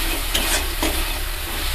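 Ginger fries in a wok, sticking to the pan, with a loud continuous sizzle and hiss heard up close, plus faint scraping stirs.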